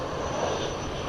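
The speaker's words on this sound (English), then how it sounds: "Another Frontier flight coming in here." A Frontier Airlines jet arriving at DFW airport at night gives a brief, steady engine roar at moderate loudness, alone without talk.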